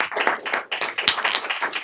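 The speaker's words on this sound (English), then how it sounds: "I want to give a huge round of applause to our panel" Applause for a panel at an Aspen Institute event: a short burst of steady, dense clapping from an audience, without speech.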